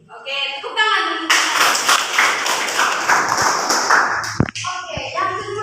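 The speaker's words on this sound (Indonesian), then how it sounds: "Oke, tepuk tangan dulu." Children in an elementary science lesson clap their hands together in a burst of rhythmic claps, with a teacher's voice speaking before and after.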